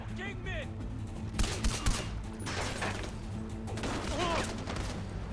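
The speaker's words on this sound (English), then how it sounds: "I just walked out into a crossfire like an idiot" Crossfire in Far Cry 4: scattered gunshots crack and burst in quick clusters amid a loud game soundscape, while a voice talks over the action.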